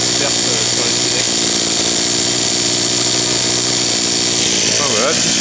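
A petrol pole hedge trimmer engine runs steadily close by, a loud buzzing two-stroke drone that fills the whole stretch while someone talks over it.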